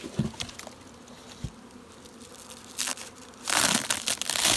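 Honey bees buzzing around beehives in an outdoor bee yard, a steady low hum with crackling bursts and a louder rush toward the end, no talk.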